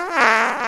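A single comic fart sound effect lasting under a second, a loud, buzzy, wavering blurt that swells quickly and holds steady before trailing off.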